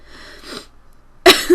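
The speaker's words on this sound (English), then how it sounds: "This just seemed to make her cough." Coughing in the video game Corpse Party: Book of Shadows, a faint raspy breath followed by a sudden loud wet cough in two close bursts, heard alone.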